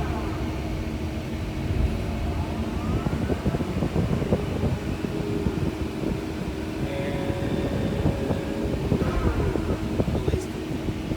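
A 2014 Komatsu PC290LC-10 excavator with 5400 hours swings its upper structure, a steady loud diesel drone and hydraulic whine with faint rising tones, heard up close amid wind noise.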